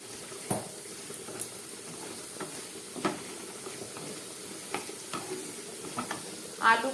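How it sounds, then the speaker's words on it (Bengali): Potato pieces frying in oil in a pan, a soft continuous sizzle with scattered stirring clinks and scrapes, quiet and close, with no talking. "আলুগুলোকে আমি একটু ভেজে নেব আগে"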